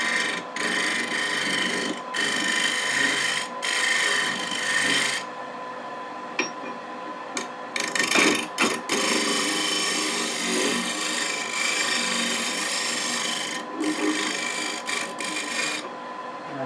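A spear point scraper rasps steadily across a wooden bird feeder part to clear fill marks, a close, continuous scratchy scraping in repeated strokes with brief pauses between passes.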